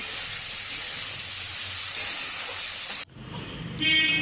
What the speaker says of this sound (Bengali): আলুটা ভেজে নিচ্ছিলাম আমি এই দেখো আলু ভাজছি